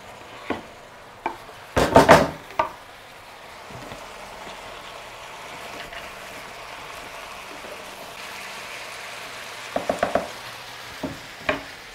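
Courgette pieces tipped into a pork, pineapple and cashew stir fry land with a burst of clattering, then settle into a quiet steady sizzle, with a few more utensil knocks toward the end.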